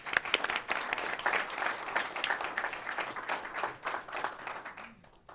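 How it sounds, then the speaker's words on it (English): A school board meeting audience claps for a newly named high school principal, a sustained round of applause that stays fairly even before tapering off at the end. "Can we give Ginger a round of applause?"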